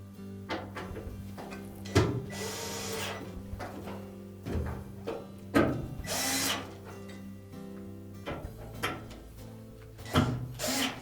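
Short bursts of a power drill driving screws into a Whirlpool washer drain pump, several whirring runs separated by pauses and clunks of handling, fairly close and loud.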